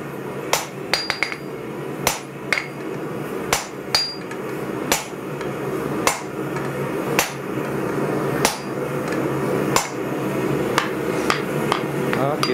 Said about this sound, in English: I should have picked up a bigger hammer for that.